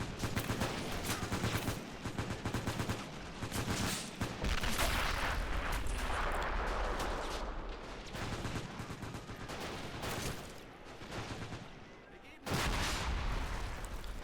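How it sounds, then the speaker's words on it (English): Soviet mortar fire in a Finnish winter town battle in a video game, a dense, loud rumble of repeated booms and explosions with scattered gunfire, continuing almost without pause and briefly dipping before another heavy burst. "Soviet mortars suppressing the Finnish assault, forcing the Finns to take cover and to stay low"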